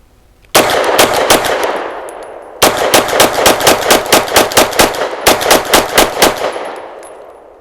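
An FB Radom Vis 100 M1 pistol fires rapid strings of shots at an outdoor steel range, three loud bursts of closely spaced cracks separated by short pauses, with ringing decay after each.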